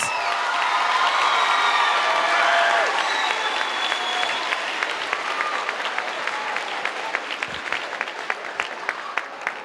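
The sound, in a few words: audience applause for 8th graders at promotion ceremony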